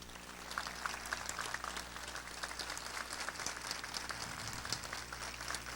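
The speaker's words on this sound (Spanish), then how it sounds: "vamos a recibirlo con un fuerte, caluroso aplauso." An audience at a university honorary doctorate ceremony in Chiclayo applauds warmly and continuously, a thick wash of many clapping hands over a low steady hum in a large hall.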